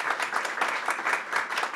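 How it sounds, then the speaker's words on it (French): An audience at a conference applauds in a steady, dense patter of clapping that holds at an even level throughout without cheers or voices. "je vous demande d'accueillir comme il se doit un petit peu d'applaudissements pour se réchauffer."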